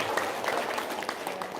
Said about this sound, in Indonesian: Kan suruh itu. Tepuk tangan dong.